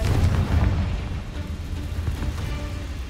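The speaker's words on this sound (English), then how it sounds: "这爆炸真的是比那个喷火的还好用" A Confringo spell blast in Hogwarts Legacy on PC lands as a loud, low booming explosion with a rumbling tail. It fades slowly across the few seconds with no voices.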